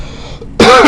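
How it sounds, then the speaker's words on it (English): A single close, loud throat-clearing cough from a man during a math lesson, coming after a short stretch of quiet. "I want to cough."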